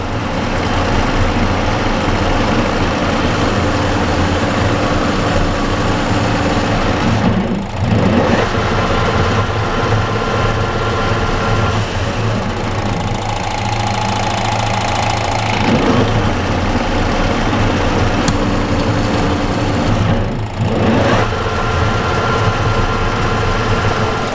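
A lathe cuts a thread inside a threaded bushing in reverse, with a little oil: a loud, continuous machine hum with steady tones, briefly dipping twice as the cutting passes stop and restart.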